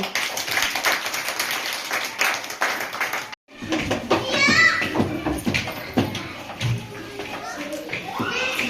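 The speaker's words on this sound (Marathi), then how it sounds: "टाळ्या वाजवा सरांनी" A primary school audience claps in a scattered, uneven burst at a science day event, broken by a short gap, then more tapping and clapping mixed with children's voices and nearby speech.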